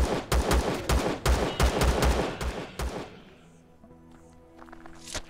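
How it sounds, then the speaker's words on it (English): Rapid burst of starting pistol shots in the space survival game Empyrion Galactic Survival, loud sharp reports in quick succession for about three seconds, then a quieter game ambience with a soft tonal hum and a faint whoosh. "Starting pistol is not the greatest weapon in this game."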